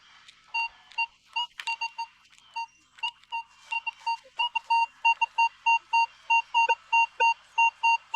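A Minelab Vanquish 540 metal detector gives its target signal, a series of short, clear electronic beeps that repeat in a quickening, evenly spaced rhythm, loud and close with nothing else around them.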